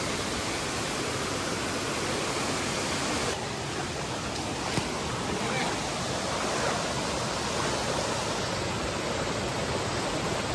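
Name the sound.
waterfall water flowing down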